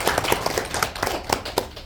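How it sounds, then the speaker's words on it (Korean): Scattered applause from a small audience at a Korean political gathering greeting a former city councillor, made of irregular separate claps of varying strength with no voices over them. "박수 한번 주십시오"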